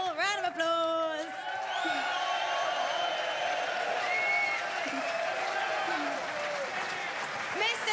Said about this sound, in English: Ladies and gentlemen, Willoughby and Tufnell, round of applause.